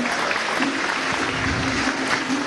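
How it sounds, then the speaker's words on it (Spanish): Applause from an audience at a Venezuelan youth orchestra system event, steady and dense for a couple of seconds, filling the room without voices on top. "Un aplauso para Asley."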